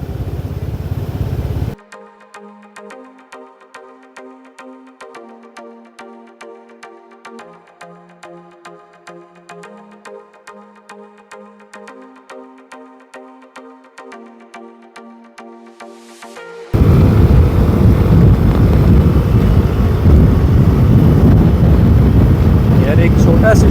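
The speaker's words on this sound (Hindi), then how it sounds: "मैंने ग्रैब पे ये मोटर बाइक बुक की। और ये मुझे अब भाई लेके जा रहा है कराबी का जो एयरपोर्ट है वहाँ तक" Motorbike ride through Krabi, Thailand, in the open air, with loud, steady wind rush and engine roar buffeting the microphone; a stretch in the middle gives way to music before the wind noise returns.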